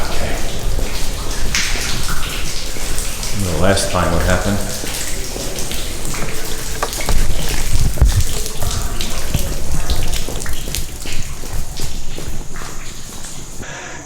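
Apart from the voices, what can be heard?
water dripping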